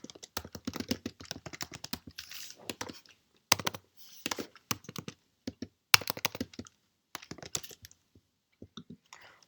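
Rapid clicky keystrokes on a computer keyboard while code is typed, close and crisp, arriving in irregular bursts with short pauses between them.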